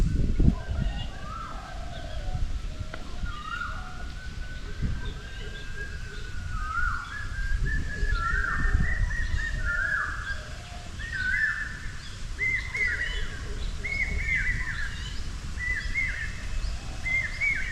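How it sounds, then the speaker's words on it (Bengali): Many different birds call at the edge of a forest near the Dwarakeswar River, faint repeated chirps and warbles layering over a soft, steady outdoor background, without speech. "আমরা এখন জঙ্গলের একটা প্রান্তে আছি, আর পাখিদের এত পরিমাণে আওয়াজ, নানান পাখিদের, জাস্ট ফিল করুন আর শুনুন।"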